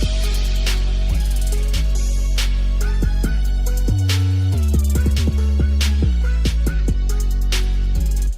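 An 808 bass line with an off-kick drum pattern programmed in FL Studio, deep sliding bass notes under punchy kicks that fall off the grid, with hi-hats and synth layers, loud and continuous throughout.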